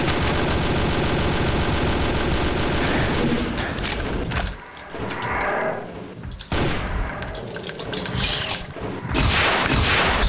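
Assault rifle fire in Brutal Doom rattles in dense, loud bursts, breaking off for short gaps and then returning, with no voices over it.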